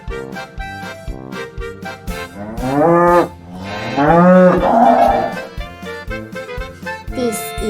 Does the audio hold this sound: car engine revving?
no